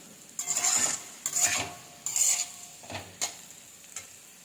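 Curry leaves sizzling as they are stirred into a frying curry of beans, potato and carrot, with a few spoon scrapes in bursts against a steady hiss.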